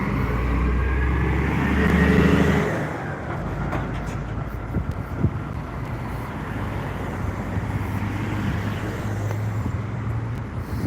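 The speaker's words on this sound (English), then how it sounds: "Another 34 East Eglinton bus." A city bus on the 34 Eglinton East route rumbles loudly past on a Scarborough, Toronto street, then fades into steady traffic noise that continues for several seconds.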